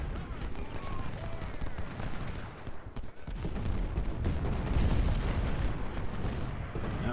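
Musket volleys from skirmishers in the Civil War strategy game Ultimate General Civil War, dense rolling crackle of massed gunfire with heavy booms, continuous and loud, briefly dipping midway before swelling again.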